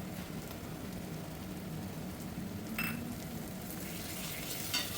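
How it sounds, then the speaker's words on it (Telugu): Onions and ginger garlic paste fry in a pan for a gongura prawn curry, giving a quiet, even sizzle with a few faint utensil clicks. "దీన్ని కూడా పచ్చివాసన పోయేదాకా బాగా ఫ్రై చేసుకుందాం."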